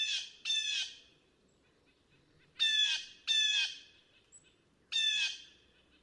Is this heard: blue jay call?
yes